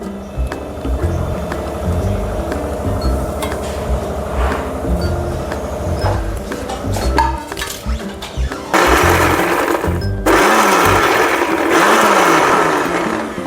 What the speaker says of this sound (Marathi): आता आपण हे लसूण, जिरं आणि मिरची याचं जाडसर वाटण करून घेऊया